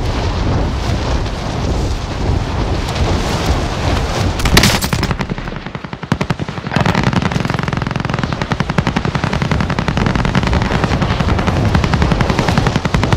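Video game battle with a helicopter's thudding rotor under rapid, sustained machine gun bursts, loud and dense, with a brief lull midway before the firing resumes.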